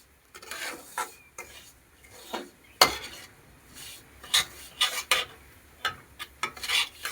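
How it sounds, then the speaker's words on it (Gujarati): Semolina roasts in ghee for rava shiro prasad while a spoon stirs it around a pan, giving rough, intermittent scraping strokes at irregular intervals, close and fairly quiet with brief gaps between them. "શેકી નાખવાનો ઘીમાં, અને હલાવતું જવાનું."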